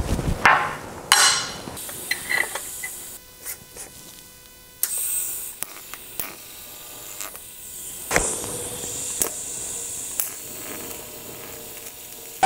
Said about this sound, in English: I'm gonna go ahead and tack this piece onto this top arm here.